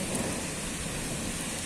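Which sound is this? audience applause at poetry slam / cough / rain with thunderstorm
rain with thunderstorm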